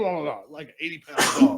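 A sharp, close sneeze bursts out right after a short bit of conversational talk during a podcast recording, loud and brief, with a voice speaking just before it.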